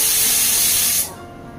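A pressure cooker whistle while cooking tomatoes and chillies: a loud, steady rush of steam hissing for about a second, then cutting off abruptly into quiet background.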